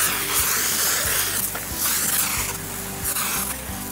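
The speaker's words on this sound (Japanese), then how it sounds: "今回はねアルカリ洗剤は蓄圧式のスプレーでやっていきたいと思います。" A hand-pumped pressure sprayer mists alkaline car wash detergent onto a new Mazda Roadster, giving loud, close hissing bursts in a steady repeating rhythm with no talk.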